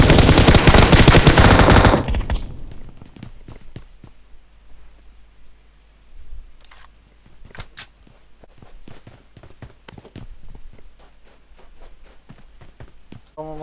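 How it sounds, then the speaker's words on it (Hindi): A long burst of loud automatic gunfire opens a PUBG Mobile match, then stops abruptly, leaving scattered distant shots and light footstep-like clicks over a quiet background. "फायरिंग स्टार्ट कर दिया"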